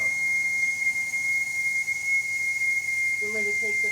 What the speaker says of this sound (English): You wanna shoot the whistle again?